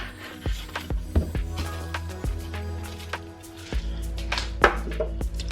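A knife chops an onion on a cutting board in a home kitchen, giving a run of sharp, irregular taps and thuds close by, spaced unevenly with quiet background hum between strokes.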